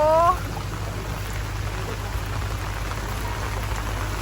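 Steady rain falls with a dense, even hiss throughout, a low hum beneath it and a brief tonal sound at the very start before the rain continues alone.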